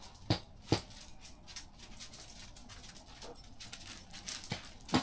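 Puppies snuffle and pant nearby with quiet whimpers, broken by a few sharp thumps and jangles, fairly soft overall.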